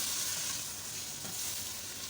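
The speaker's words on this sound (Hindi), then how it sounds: "गरम ऑयल भी इसमें डालेंगे तो इसकी बनाई अच्छी होगी।" Hot oil poured onto mutton keema in a karahi sizzles loudly and close, a dense steady crackle that eases slightly as it continues.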